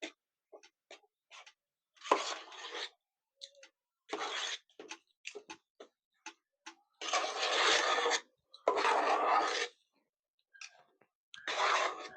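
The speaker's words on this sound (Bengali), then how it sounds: "গুড়টা দিয়েও ভালো করে নেড়ে ছেড়ে একদম মিশিয়ে নিতে হবে।" Jaggery being stirred into rice and milk in a pan over a low flame for a pitha dessert: bursts of scraping spoon strokes against the pan, several longer sweeping stirs among short clicks and taps, close and fairly soft, with no talking.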